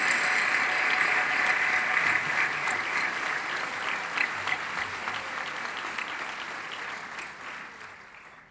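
Sustained audience applause fills a high school commencement hall as a returning commencement speaker, Mr. Crowley, is welcomed, a dense steady wash of many hands that holds strongly and then tapers slightly toward the end.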